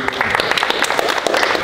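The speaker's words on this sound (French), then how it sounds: "Oh, on peut l'applaudir, c'est un vaillant" Short burst of applause for a man in a French Ramadan special, a dense crackle of many hands clapping close by, continuous and fairly loud for under two seconds.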